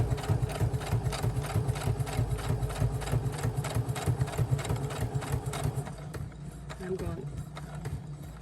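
A sewing machine stitches up the sides of a handmade vintage-style storybook journal's waterfall pockets, running in fast steady bursts for about six seconds before stopping, leaving quieter handling sounds.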